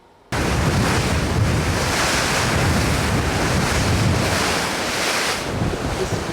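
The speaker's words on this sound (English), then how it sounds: "This is the Southern Ocean." Wind and breaking Southern Ocean waves roar steadily around a racing yacht on Volvo Ocean Race Leg 5, a loud broadband rush that starts abruptly and holds at full strength throughout, with no voices.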